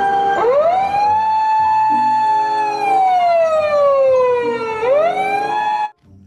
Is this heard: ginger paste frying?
no